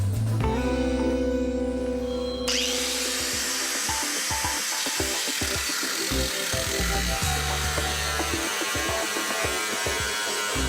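A power cutting tool runs along a new car body panel during Opel panel repair, a continuous close whine and grinding rasp with gritty scraping bursts as it works through the sheet metal.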